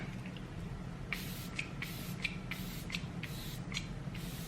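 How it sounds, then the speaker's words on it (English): Glow Recipe Watermelon setting spray is misted from a pump bottle in a series of short, close hissing bursts, about eight evenly paced sprays in quick succession over a low background hum. "I gotta use the Watermelon setting spray from Glow Recipe"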